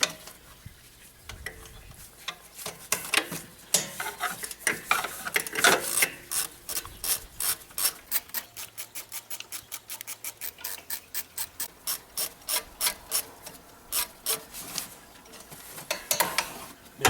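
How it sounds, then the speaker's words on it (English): A flex ratchet loosens bolts during turbo removal on a Ford F250 6.0 Powerstroke. It makes close, rapid bursts of ratchet clicking in a steady repeating rhythm, with no talking. "and then a flex ratchet makes it handy."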